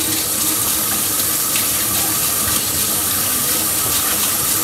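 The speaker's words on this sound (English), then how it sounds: "Wash my hands." A kitchen tap runs steadily and loudly as hands are washed during home tortilla making, a continuous close gush of water with no talk over it.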